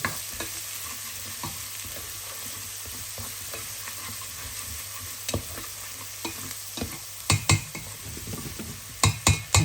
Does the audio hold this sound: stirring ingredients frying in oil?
yes